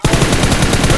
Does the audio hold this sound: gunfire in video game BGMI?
yes